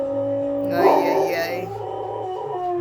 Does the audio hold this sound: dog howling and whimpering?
yes